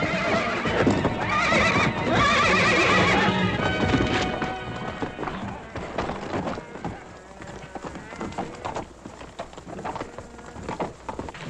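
A horse whinnies loudly at the start with hooves clattering, then hoof thuds and scuffling continue more sparsely.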